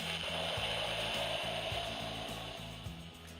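A Proplica Excalibur toy sword lights up and plays its electronic sound effect, a steady synthetic hum with a repeating rhythmic pulse, heard alone at low level.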